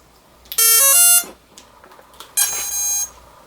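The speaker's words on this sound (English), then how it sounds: "It beeped initially." An 80A electronic speed controller for a model aircraft beeps loudly on battery plug-in: a stepped rising run of three tones, a short pause, then one longer high tone, close and clear with no talking.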